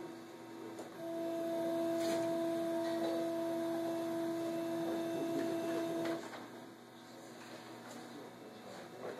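A CNC router gantry jogs across a wooden board under controller command, a steady motor whine with two sustained tones rising in over background hum, holding for about five seconds, then cutting off into quieter room noise.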